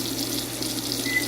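Tap water runs steadily into a sink while a Persian kitten is washed, a close, continuous hiss with no talking.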